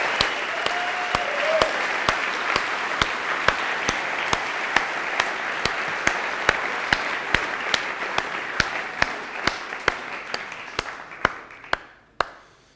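Audience at a hackathon closing ceremony applauding the finalists, a full round of clapping with a few sharp close claps standing out, gradually thinning and fading out near the end.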